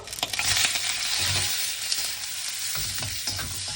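Prawns hit a hot wok for pineapple fried rice with a bright, steady sizzle. Quick stirring scrapes and taps sound close up, and no one speaks.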